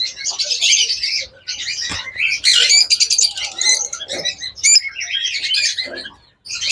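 A pair of blue-marked pet birds chirping and tweeting in quick, bright bursts, close and loud, with overlapping calls and short pauses throughout.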